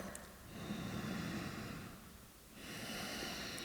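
Slow, deep breathing during a yoga session for hips and hamstrings: a long airy inhale, a brief lull, then another drawn-out breath, close and soft with no talking.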